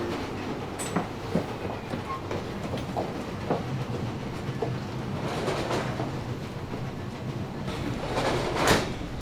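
A passenger train rolls along its rails with steady rumbling and faint clickety-clack, a continuous interior ride noise with a few scattered creaks and voices faintly in the background.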